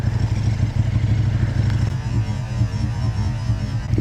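A 2017 KTM 1290 Super Duke R with a 1300cc V-twin engine rides around town, giving a close, throbbing low rumble with a steady pulsing beat and a little mechanical clatter.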